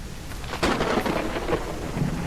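Video game ambience: rain falls steadily while thunder rumbles loudly through it, a dense, noisy storm wash with no voices.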